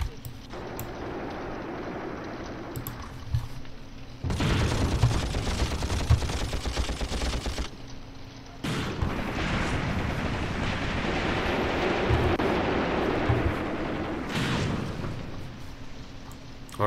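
Rapid bursts of gunfire and heavy weapons in the WWII-era tactical war game Graviteam Tactics: Mius-Front, dense sustained firing swelling in two long stretches, with someone talking over the battle.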